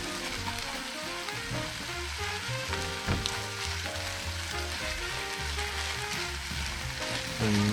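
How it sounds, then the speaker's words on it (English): A spatula stirs crab gyoza filling around a hot frying pan, giving a quiet, continuous sizzle with light scraping and shuffling throughout and no voices. "You just want to keep stirring this around with your spatula."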